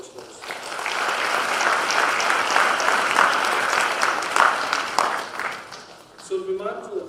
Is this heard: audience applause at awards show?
yes